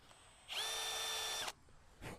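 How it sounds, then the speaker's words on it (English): A power drill whirs at high speed for about a second, drilling out a dirt-filled bolt hole on a log splitter, close and fairly loud, then stops, followed by a short burst of noise. "we're just going to kind of drill it out a bit."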